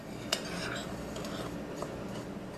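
A spoon stirs half a cup of ground cinnamon with half a cup of sugar in a bowl, giving soft scraping with a sharp clink early on and a lighter tap later, quiet and close.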